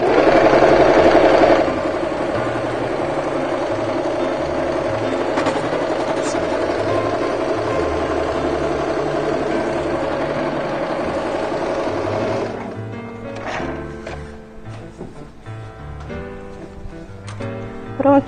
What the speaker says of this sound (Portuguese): Vou colocar aqui o tecido para eu costurar.